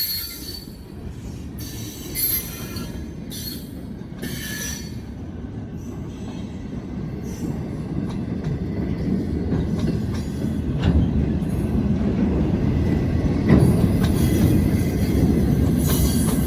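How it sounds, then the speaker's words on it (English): A heavy freight train hauling grain with road and switcher locomotives rolls past, its wheels squealing in high piercing tones over a dense rumble that swells toward the end. "This is a heavy train."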